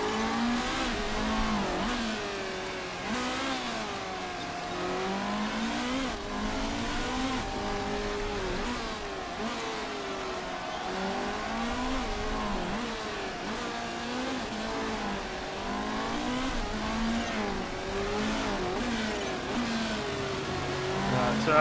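Race cars lapping a track in Motorsport Manager, engines howling continuously and weaving up and down in pitch as they accelerate and brake through corners, steady and fairly loud throughout.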